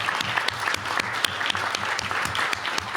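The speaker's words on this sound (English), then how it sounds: "can we give a round of applause for those students and Bess Lee?" An audience at a school board meeting claps for winning students, a dense, steady round of applause from a roomful of people that carries on without pause.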